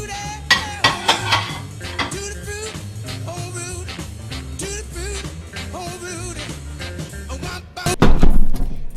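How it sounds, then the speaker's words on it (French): Dishes, pots and cutlery are washed by hand in a home kitchen, with repeated clinks and clatters of metal and crockery and a loud clanging burst near the end, while a voice talks or sings intermittently. "donc je vais faire la vaisselle"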